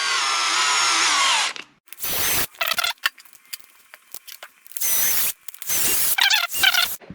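A power tool tightens bolts on a Losi LMT RC truck axle assembly, with a long high whir followed by several short, close bursts of spinning separated by quiet gaps and light handling clicks.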